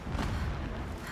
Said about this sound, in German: Entfernte Explosion. Ignoriere sie.